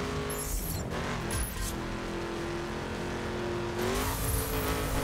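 Car engine in The Crew racing game held at full throttle, a loud sustained drone that shifts pitch slightly near the end, with faint tire and road noise layered over it.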